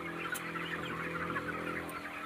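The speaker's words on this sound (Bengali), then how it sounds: "আর এই দেখুন আমাদের মুরগি পালিত হচ্ছে।" Broiler chickens cluck and chatter continuously on a poultry farm, a dense steady flock din close by with a couple of brief sharp clicks, no voices.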